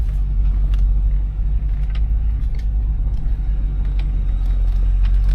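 A 1996 Chevrolet Impala on a test drive, heard from inside as a steady, loud low road and engine rumble with faint ticks and knocks over it, no talking.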